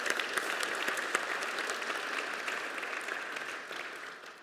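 Applause from a gala audience, a dense steady clapping that holds close and full before tapering slightly at the end.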